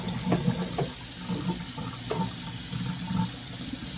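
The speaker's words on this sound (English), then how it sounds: "Now, the filters, you just clean with regular tap water." Tap water runs steadily into a sink while aquarium filters from a 125-gallon tank are rinsed, with irregular splashes and clatters of handling close by throughout.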